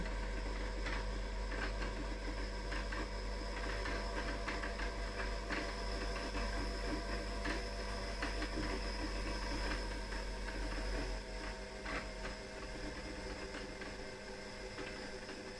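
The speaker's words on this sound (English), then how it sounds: "So my bobbin now is slowing down" Sewing machine winding a bobbin, a steady mechanical whir and rattle with a low hum that eases off as the bobbin fills, close and continuous with no talk.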